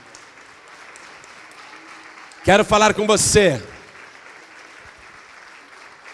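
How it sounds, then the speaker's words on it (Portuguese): A church congregation breaks into a short, loud burst of clapping and cheering for about a second, rising and fading against quiet room tone, with a voice speaking just afterward. "vamos aplaudir muito."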